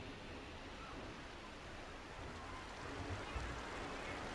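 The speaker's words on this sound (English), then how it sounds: "You've got the waterfall over here." Continuous rushing wash of a waterfall in the theme-park game Planet Coaster, a steady hiss of falling water fairly low in level with no one talking.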